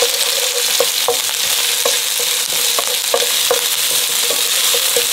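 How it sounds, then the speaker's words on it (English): Red onions sizzle steadily in a hot Sunbeam Duraceramic frypan with a bright crackling hiss, punctuated by regular scraping taps of a utensil stirring. "You can see it starts frying already."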